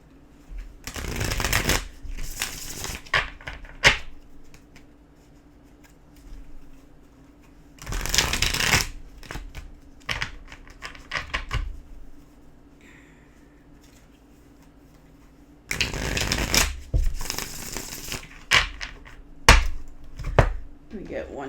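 Tarot cards are shuffled in several separate bursts of quick, crisp riffling and flicking, close and fairly loud, with quiet pauses between them.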